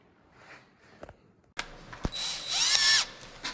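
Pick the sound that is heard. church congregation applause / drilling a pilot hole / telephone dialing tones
drilling a pilot hole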